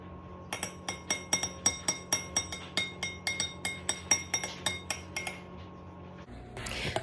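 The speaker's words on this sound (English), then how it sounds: "get a fork and I'm going to kind of mix the buttermilk with the heavy whipping cream" A fork mixes buttermilk and heavy whipping cream in a container while making butter at home, clinking against the sides in a steady run of about sixteen close, bright taps with no talking.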